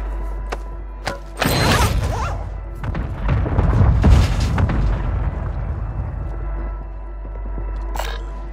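Requested artillery fire lands in a series of heavy, rumbling explosions, booming loud and sustained for several seconds before settling into a low roar, with a sharp crack near the end.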